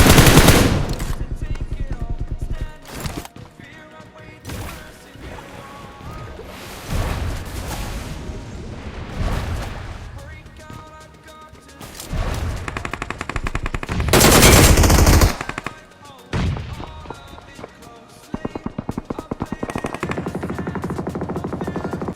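Automatic gunfire in the battle royale game BGMI, with repeated rapid bursts of shots and loud blasts that are close and far, some fights heard from a distance at a tower, and game sounds between the volleys.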